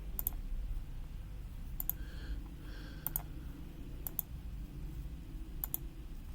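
Sharp computer mouse clicks, single and doubled, tick out at irregular intervals over a quiet low hum, with a faint tone briefly in between.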